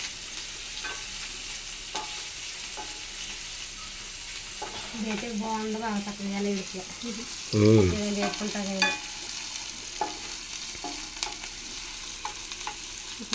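Tomato, onion and green chilli pieces fry in a pan with a constant low sizzle and occasional stirring scrapes, while a person talks briefly over the cooking midway through.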